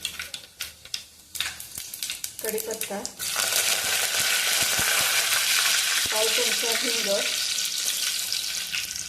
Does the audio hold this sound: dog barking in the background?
no